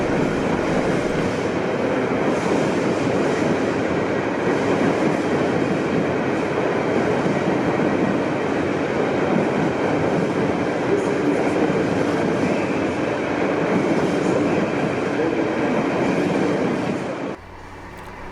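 A Freightliner freight train rolls through a station, its steady loud rumble and clattering wagons filling the scene for about seventeen seconds before the sound drops away abruptly near the end.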